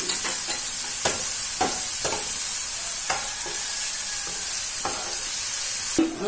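Onions and crushed shallots sautéing in a pan for Kerala-style fish biryani, a continuous close sizzle broken by repeated sharp stirring scrapes and taps.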